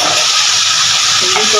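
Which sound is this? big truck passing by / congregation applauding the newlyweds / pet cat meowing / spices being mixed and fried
spices being mixed and fried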